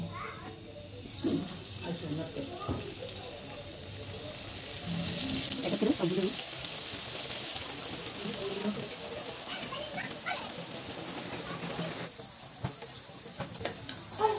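Chicken rolls fry in hot oil with a broad, steady hiss and bubbling that swells after they go in, with a voice talking intermittently over it.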